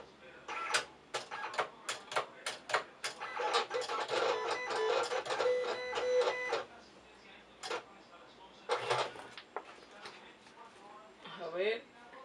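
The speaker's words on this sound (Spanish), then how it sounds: "ahora vamos a proceder con el corte del vinil PVC" A vinyl cutting machine slices PVC heat transfer vinyl with rapid mechanical ticks and clicks, bunched into a dense burst, then sparser taps and a brief motor whine. A short voice is heard near the end.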